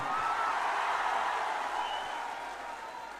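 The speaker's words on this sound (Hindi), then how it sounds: "अपने लिए जोरदार ताली बजाइए बैठकर आप।" Seated protest crowd at a rally against the Waqf Act in Patna clapping loudly together, a dense sustained wash of applause that holds steady and then eases slightly toward the end.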